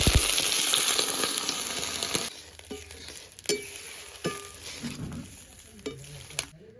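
Frying taro pieces sizzle loudly in a pan until water and torn green chili go in, after which the hiss drops to a quieter bubbling with occasional sharp clinks and scrapes of a utensil, close by.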